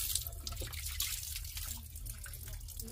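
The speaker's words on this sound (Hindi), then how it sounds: "पानी पी लेते हैं हम।" Water runs or pours for drinking after a meal, a steady splashing wash with faint drips, close by under a low background rumble.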